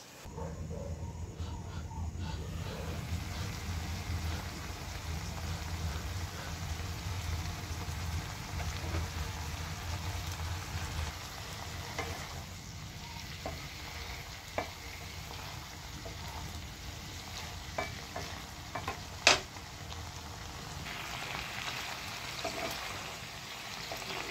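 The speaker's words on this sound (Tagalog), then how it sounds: "Simmer for 5 minutes." A dish simmers in a pan with a little water, giving a soft, continuous bubbling hiss that stays close and low for the whole stretch, with an occasional faint tick and no speech.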